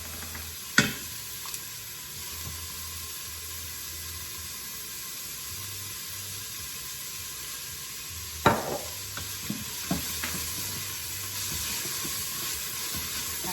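Chicken searing in oil in a pan for chicken pot pie soup, a quiet continuous sizzle with a few sharp clinks and knocks of a utensil scattered through, nearby and without talk.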